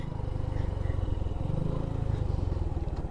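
Several motorcycles at a resort entrance gate after a long group ride, with a close, steady, rumbling engine drone that pulses evenly throughout and carries a faint clatter.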